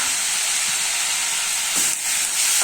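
Onions and tomatoes sautéing in a pan for soya curry give a steady, loud, close sizzle and hiss throughout, with a brief stir or shift near the end and no talking.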